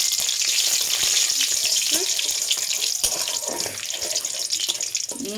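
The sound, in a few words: whole spices tempering in hot oil in a wok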